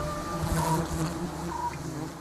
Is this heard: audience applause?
no